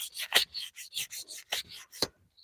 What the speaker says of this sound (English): That is still sanding really well.